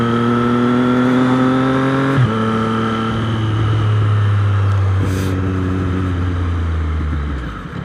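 A car engine runs steadily at about 4,000 RPM in second gear while driving, a loud, even hum with a small pitch shift midway and a gradual drop in revs toward the end.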